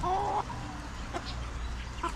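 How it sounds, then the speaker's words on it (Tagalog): A brooding mother hen that has just left her nest clucks in a Filipino backyard garden. A few short, moderately close calls stand over low outdoor background noise. "Lumabas yung inahin natin na naglilimlim."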